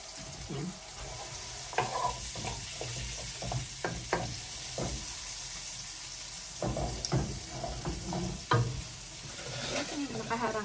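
Onions frying in a wok for adobo: a continuous close sizzle with frequent stirring clatter and scraping of the utensil against the metal.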